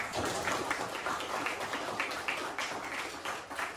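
A junior high school class clapping together at the close of a social studies lesson: dense, continuous group hand claps with an even, slightly rhythmic patter, near and fairly loud, with no talk over it.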